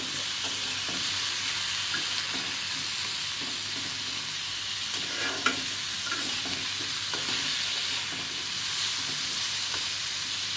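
Hog plums fry with turmeric, jaggery and chaat masala spices in a pan, a steady broad sizzle running throughout with soft scraping stirs now and then, close and fairly loud with no talking.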